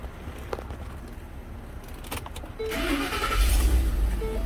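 A car engine with an exhaust leak cranks briefly and catches, settling into a low rumbling idle nearby, with some clicks beforehand.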